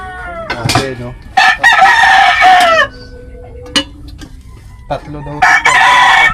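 A rooster crows loudly and repeatedly at close range among clucking chickens, with short pauses between the calls and a brief voice in the background.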